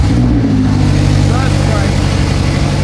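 BMW M5 Competition engine running just after its rebuild, a loud steady low rumble holding evenly throughout with no break.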